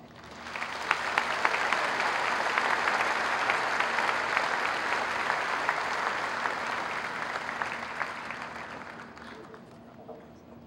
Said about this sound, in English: the salutatorian medallion to Michael, I would ask you to join me in honoring him with another round of applause